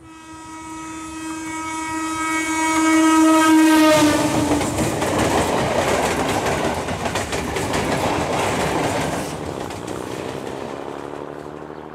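A train passes close by, its horn sounding with steady harmonic tones for the first few seconds before giving way to loud rumbling, rattling wagons and clattering wheels on the rails.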